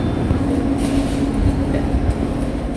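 A steady low rumble of a departing train rolling along, constant and fairly loud, with a faint hum and no voices.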